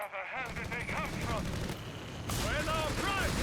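An artillery barrage in the World War II strategy game Company of Heroes 3 lands as a rapid run of booming explosions and rattling gunfire, heard under an excited commentator's voice.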